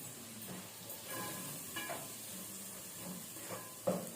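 Crab curry with chili powder stirred in a pan, soft sizzling and simmering under scattered scraping strokes of a spoon, quiet and continuous, with a slightly louder knock near the end.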